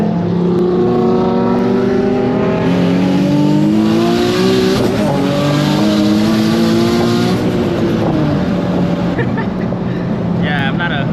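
A turbocharged Nissan 350Z engine revs loud and close on a night drive, its pitch climbing and falling in smooth sweeps with a whooshing turbo edge, then settling to a steady drone.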